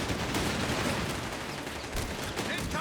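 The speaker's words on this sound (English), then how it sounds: "S-mines there going off. Butterfly bombs going off. Grenades being set off there." S-mines and butterfly bombs bursting, with grenades going off, during a Company of Heroes 3 match: a dense, continuous wash of close explosive crackle and pops with brief sharper bursts, loud throughout.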